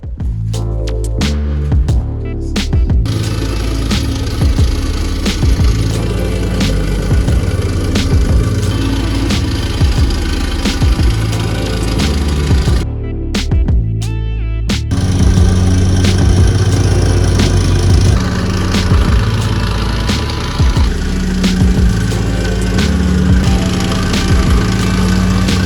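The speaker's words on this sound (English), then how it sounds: "We are now bringing over the compactor." A plate compactor runs steadily in a garden, compacting MOT sub-base for an artificial grass installation, with a loud continuous engine drone and vibrating thrum that changes pitch briefly partway through.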